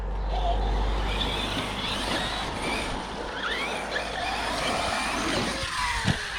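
An Arrma Talion 6s RC car's electric motor whirs and whines at a distance in an outdoor bash session, with rising and falling pitch sweeps and a sharp knock near the end.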